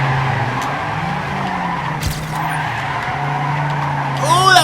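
A race car in the video game Trackmania Canyon skids with sustained tire squeal over a steady engine drone, the squeal rising near the end; no speech is evident.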